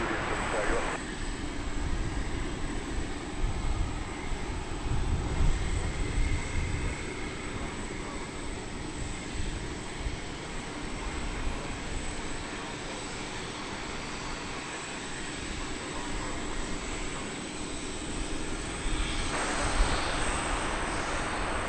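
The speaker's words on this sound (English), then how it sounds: "This is American Flight 3761 arriving from Brownsville, Texas." An American Eagle airliner, American Flight 3761 from Brownsville, Texas, arrives at DFW Airport, its engine roar steady and moderately loud throughout, with a voice speaking over it.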